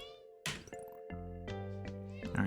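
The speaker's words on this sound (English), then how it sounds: "why are you meowing?" A small, tiny cat meows indoors close by, giving a few short, quiet calls one after another with no talk over them.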